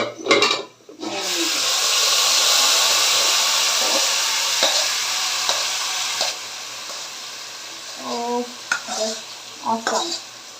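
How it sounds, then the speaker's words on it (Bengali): Ingredients for haleem are poured into onion and garlic frying in oil in a pan, setting off a loud, steady sizzle that gradually fades, with clinks of a utensil against the pan near the end. "পেঁয়াজ রসুন একটু লাল লাল হয়ে আসলে এখন হচ্ছে আমি ঢেলে দিব এটা"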